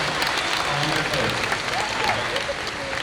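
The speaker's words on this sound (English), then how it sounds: "How about a nice round of applause for the crew?" An audience at the Indiana Jones movie set stunt show at Hollywood Studios applauds the crew, a broad, continuous clatter of many hands with scattered voices and faint calls mixed into the crowd noise.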